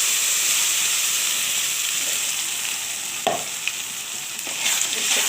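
Masala poured into hot oil for a chicken kasha with papaya and gondhoraj lemon leaves, giving a steady loud sizzle and frying hiss with a few brief stirring scrapes near the end, no talking.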